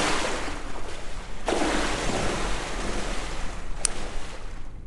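Water in Melon Playground, heard as a steady broadband wash with a swell of splashing partway through and a brief sharp splash near the end.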